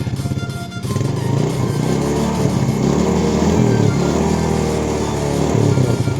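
Yamaha Jupiter Z motorcycle engine running steadily with throttle blips, a close, loud mid-pitched engine drone that rises slightly with revving and holds throughout.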